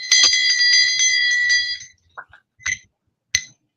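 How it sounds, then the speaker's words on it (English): A small brass bell decorated with an anchor rings with a bright metallic jingle for about two seconds, then gives a few shorter close taps and clinks. "it is this brass bell."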